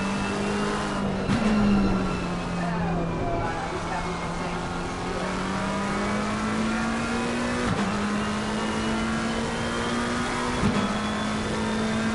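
A race car engine in the racing video game Assetto Corsa Competizione, at Kyalami, drones steadily at high revs, pitch rising and dipping with gear shifts and a few sharp pops, loud and continuous.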